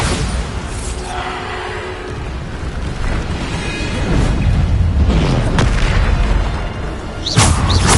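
Bombarda blasting-spell explosions in a Hogwarts video game, deep booming blasts rolling continuously with rumbling debris and a sharp burst near the end, loud and close.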